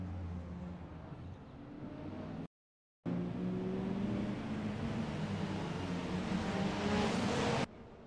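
Race cars in a racing video game pull away from the grid at the start, a steady layered engine drone that builds in intensity, broken by a brief cut to silence.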